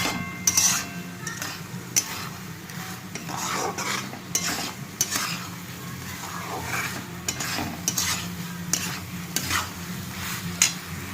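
Aloo posto, potatoes in poppy seed paste, being stirred in a pan: repeated scraping strokes of a spoon against the metal over a low steady sizzle, close and fairly loud, with no voice.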